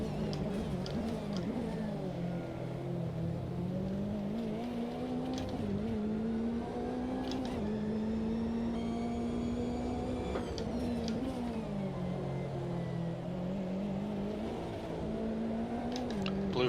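Race cars in an Automobilista 2 sim race roar continuously up close, the engine note rising and falling through gear changes with occasional faint tire squeal, no talking.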